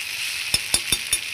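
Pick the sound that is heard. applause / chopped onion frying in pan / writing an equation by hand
chopped onion frying in pan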